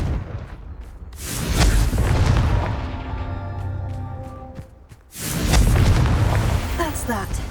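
A Confringo fire blast spell in Hogwarts Legacy goes off as a heavy, rumbling boom with ringing tail, followed by a second loud blast.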